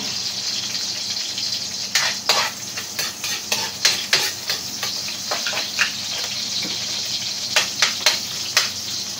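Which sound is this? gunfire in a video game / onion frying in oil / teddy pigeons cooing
onion frying in oil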